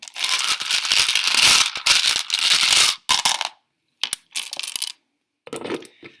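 Metal charms clatter and jingle as a hand rummages through a large bowl of them, loud and close, in dense bursts of rattling with short pauses, then scattered smaller clinks.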